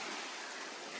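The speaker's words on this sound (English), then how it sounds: "This is horrible windy, guys." Heavy wind rushes past in a steady, loud broadband roar over an avocado orchard, with no pause across the short stretch.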